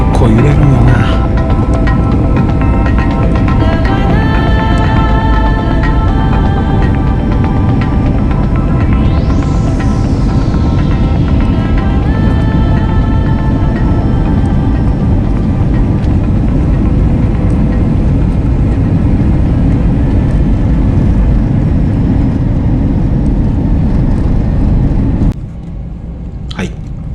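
A Vietnam Airlines plane in business class lands. A loud, steady roar of engine and airflow fills the cabin throughout, with a brief whine partway through. The noise drops off sharply at the very end.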